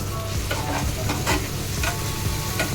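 Tomato, coconut and chili powder sizzle loudly in a hot pan for a Kerala-style prawn roast, with a few quick stirring scrapes breaking through the constant close frying hiss.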